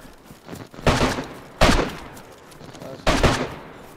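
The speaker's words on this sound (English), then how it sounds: "I'm shooting at him." Three separate heavy gunshots spaced about a second apart in the survival game DayZ, each a loud sharp crack with a short rumbling decay, played over a quiet outdoor background.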